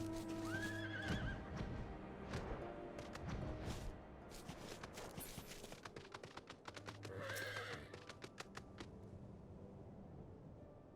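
A horse in the game Final Fantasy XIV neighs twice with loud whinnies amid steady clip-clopping hooves, heard alone without talk.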